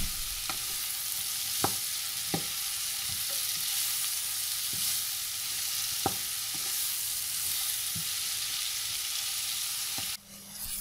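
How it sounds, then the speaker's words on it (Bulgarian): Chopped leeks for banitsa fry steadily in a pan, a continuous close sizzle broken by occasional small pops and stirring knocks, with no talk. "ще го пържа така около 10 минутки, докато омекне хубаво."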